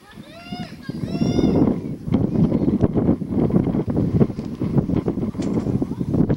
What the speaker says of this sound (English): Wind continues to gust.